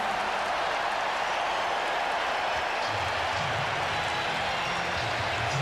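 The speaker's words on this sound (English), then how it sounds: "And that gets the crowd going." Crowd in an NBA basketball arena during a 1996 Bulls game against Orlando, a dense continuous roar of cheering and applause that stays loud and steady throughout, with a faint low voice underneath.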